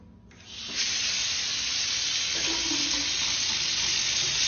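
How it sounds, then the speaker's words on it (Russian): A steady, loud hiss of water spraying from a leaking pipe through tiles, starting abruptly and continuing without a break, close up. "Труба протекает через плитку?"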